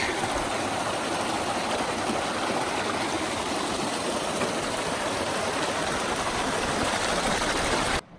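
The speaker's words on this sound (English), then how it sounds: "a pretty little bridge over a pretty little creek" Small creek flowing beneath a little footbridge along a mountain trail, a dense, steady rushing and gurgling close by that holds constant for the whole stretch before cutting off abruptly at the end.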